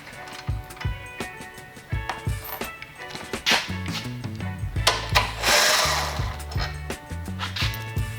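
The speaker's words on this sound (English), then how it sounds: "the first thing we need to do is remove these two rear bolts with a 7/16" A 7/16 socket wrench removes two rear bolts from the wheelie bar of an Action Trackchair AXIS, with close ratcheting clicks in bursts alongside knocks and metallic clatter.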